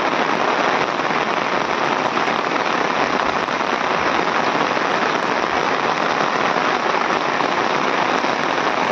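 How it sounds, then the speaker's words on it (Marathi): Heavy monsoon rain pours down in rural Konkan, a dense, loud, unbroken hiss of drops on surfaces that holds steady throughout, with no voices. "पाऊस होतो भरपूर आणि आता जरा पाऊस गेलो इकडे सगळं पाणी वाढला."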